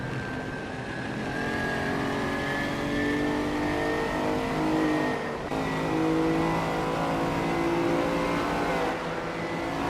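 Several race cars in a racing video game, modern machines alongside a vintage car, pull away from the start line, their engines revving together in a loud, steady roar that rises slightly in pitch with no pauses or voices.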